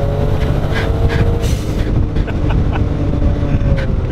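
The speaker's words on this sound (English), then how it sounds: "that blow-off is insane" Turbocharged Suzuki Cappuccino with a big turbo revving hard, a loud, dense engine roar with bursts of airy turbo blow-off hiss spread through the clip and no talking.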